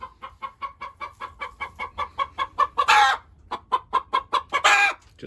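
Hens on a meat-chicken farm cluck in a steady rhythmic series of close, repeated calls, with two louder squawking bursts partway through and no talking.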